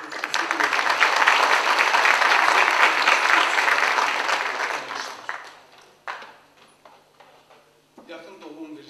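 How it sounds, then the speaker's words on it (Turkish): Loud applause from a crowd swells for several seconds, then fades into scattered claps and a few remaining hand claps. "Onu da alkışlayak"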